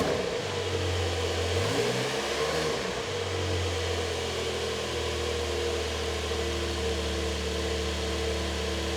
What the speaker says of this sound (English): It's obviously a very, very cold engine, so we'll not be revving it above 3000 RPM